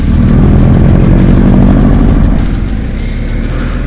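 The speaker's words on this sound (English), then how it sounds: "Boxer engine. They always sound good." Subaru WRX boxer engine running nearby, a loud steady low rumble that holds throughout and eases slightly in level toward the end, heard from among adventure motorcycles.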